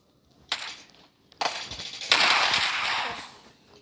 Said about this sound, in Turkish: ya benim çok iyi bir silahım var ha. İki tane Uzi.